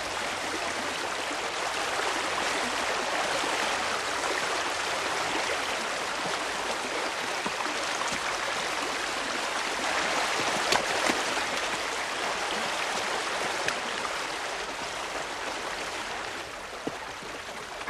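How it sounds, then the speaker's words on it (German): A babbling meadow brook flows steadily for the whole stretch, a dense, even rush and gurgle of water close by with no voices over it. "Dieser Wiesenbach ist nicht nur schön, der klingt auch wunderbar."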